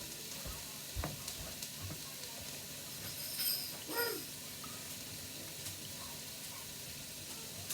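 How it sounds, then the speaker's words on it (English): Minced garlic sizzles in a pan, a faint steady crackle with a few clinks and stirring knocks around the middle. "I'm going to put just a little minced garlic in there."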